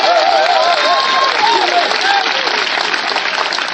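A congregation applauding at a night prayer and deliverance meeting in Bouakako, dense sustained clapping and crowd noise filling the whole moment at high volume, with a voice faintly over it.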